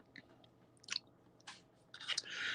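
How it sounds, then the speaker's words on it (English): A person chews food close to the microphone, with faint, irregular crunchy bites and mouth sounds that come in short bursts and grow denser toward the end. "excuse me because if I am chewing, because I haven't eaten all day"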